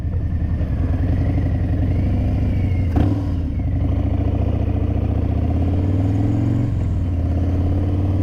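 A Harley-Davidson motorcycle rides along with a steady low engine rumble, heard up close from the bike with a brief clatter partway through and no voices.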